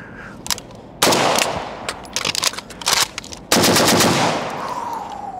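An AK-47 with a recoil-reducing muzzle brake and 16-inch barrel fires full-power 30-caliber ammo outdoors, two long loud bursts of rapid automatic fire with ringing echoes and scattered shots between them.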